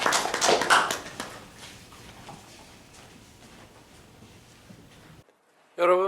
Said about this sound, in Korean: 목사님 나오셔 우리 감사의 박수.